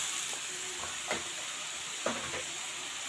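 Cumin, ginger and garlic paste sautés in a pan, a steady close sizzle with two brief scraping stirs, no voices.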